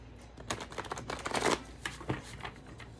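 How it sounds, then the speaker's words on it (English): A deck of cards is shuffled, giving a close, rapid flurry of papery riffles and soft slaps over a few seconds. "So let's shuffle these one or two more times."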